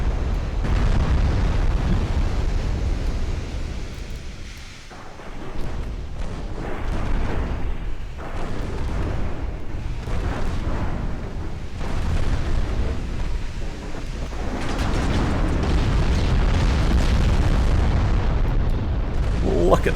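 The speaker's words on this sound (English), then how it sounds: "There you go. All the 6-inch shells." Six-inch naval shells bursting in a battle in a strategy video game set in an Austrian campaign, a dense continuous barrage of heavy booms and rumbling explosions with a brief lull partway through.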